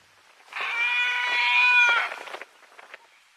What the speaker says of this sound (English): those sounds are produced by hungry calves begging for milk.